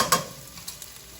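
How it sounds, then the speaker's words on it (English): Tomatoes and onions hit hot oil in a pan for arroz con pollo, giving a short, close burst of crackling sizzle that settles into a softer steady frying with small pops. "hearing that onion sizzle"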